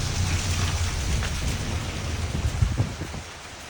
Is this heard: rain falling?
yes